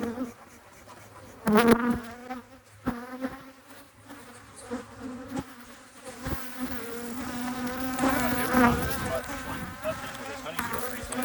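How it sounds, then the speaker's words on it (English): Honey bees from a managed hive box swarm in an angry, dense buzz that swells and wavers throughout, loud and close, with brief knocks and handling noises between. "Holy moly, these are mad bees."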